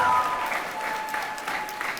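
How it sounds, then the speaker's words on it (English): An audience at a high school graduation ceremony applauds a senior music ensemble, a continuous spread of many hands clapping with a few sharper individual claps and faint voices underneath. "Can we give them a round of applause before we take our seats?"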